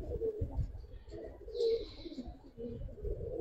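Old-breed, hurricane-style gribaz pigeons coo nearby: low, throaty, rolling coos that repeat in soft pulses, with faint background rustle.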